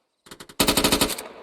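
Machine gun fire in the Arma 3 video game: a short burst of four shots, then a louder, faster burst of about eight close, punchy rounds with a ringing tail.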